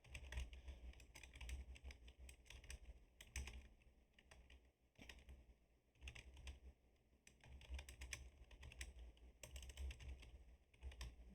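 Steady keyboard typing in Microsoft Word, dense runs of key clicks with brief pauses between bursts, close and fairly quiet, no voices.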